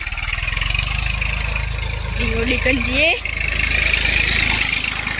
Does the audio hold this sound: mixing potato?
no